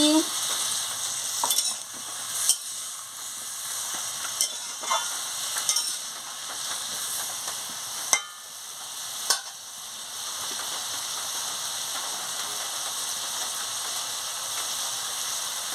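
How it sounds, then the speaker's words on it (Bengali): Pumpkin and shrimp with chili powder are stir-fried in a pan, giving a continuous close sizzle broken by scattered scraping stirring strokes and a few sharp clanks of utensil against the pan. "পরিমাণ মতন লঙ্কার গুঁড়োটা দিয়ে দিচ্ছি দিয়ে ভালো করে নাড়িয়ে নিচ্ছি"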